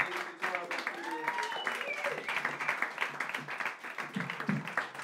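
Audience applause for a bass guitarist at a house concert: a steady wash of clapping that lasts the whole stretch, with a voice talking over it and faint tonal notes drifting through.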